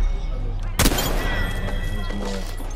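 A Spitfire machine gun fires in Apex Legends ranked play, a sharp loud shot up front followed by continuous busy game noise, a game voice talking over it.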